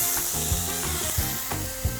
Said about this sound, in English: And they're sizzling straight away.